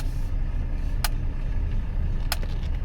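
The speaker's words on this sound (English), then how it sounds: "Hear that brake?" An old Mercedes 300CD rolls along with a steady low engine and road rumble, broken by two short, sharp high-pitched brake squeals about a second apart.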